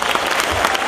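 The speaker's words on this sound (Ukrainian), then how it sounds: "Просимо ваших бурхливих оплесків." Applause from a festival audience in a hall, a dense and loud wash of many hands clapping steadily, heard close with no talking over it.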